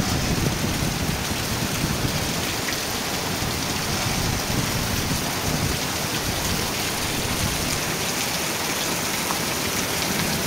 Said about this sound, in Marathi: विजांच्या कडकडाट मुसळधार पावसाला सुरुवात झालेली आहे.